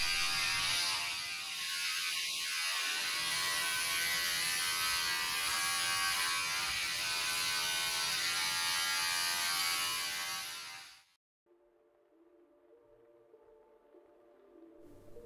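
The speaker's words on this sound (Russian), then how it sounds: "Сначала в дело идет триммер, а уже потом я убираю остатки волос бритвой." An electric trimmer shaves body hair before a bodybuilding competition, giving a loud, steady close-up buzz for about eleven seconds before cutting off into a quiet hum.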